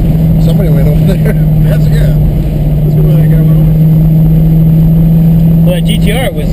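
A race car engine drones loudly and steadily on the Houston MSR track during a parade lap, with a strong sustained tone and slight swells as it accelerates, and the driver talking over it.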